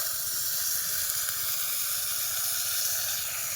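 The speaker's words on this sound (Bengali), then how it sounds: "এই যে মূলো আর আলু এই তেলের মধ্যে দিয়ে দেবো একেবারে ভেজে দেবো" Radish and potato pieces fry in hot oil, giving a constant loud hissing sizzle that holds evenly throughout.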